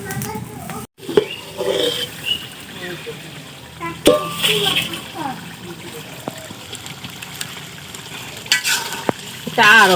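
Beef tripe frying in a pan, with a continuous sizzle and repeated scraping stirs of a spatula close by, some louder knocks against the pan.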